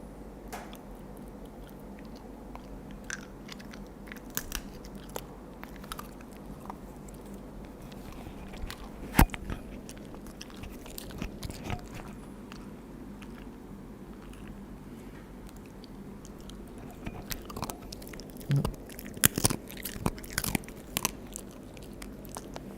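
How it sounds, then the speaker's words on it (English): Crunchy food is chewed close up in a quiet room, with a run of soft, irregular bites and crunches that grow busier and sharper toward the end. "listen to the crunching"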